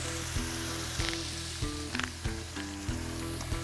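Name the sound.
steak sizzling in olive oil in pan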